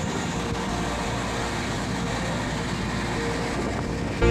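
Steady, loud rumble and rattle from inside a moving passenger train on a cloudy, rainy day, continuous and even throughout with no voices.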